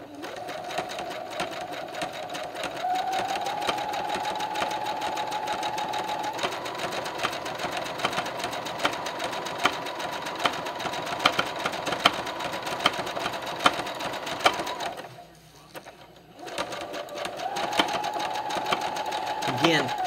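A sewing machine runs in a steady, continuous whir while stitching a rug, dropping out briefly near the end before starting up again; no one talks over it.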